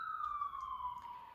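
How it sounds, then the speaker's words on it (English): A police or emergency vehicle siren outdoors, one faint, distant wailing tone sliding slowly downward, heard alone without talking. "sorry about that siren."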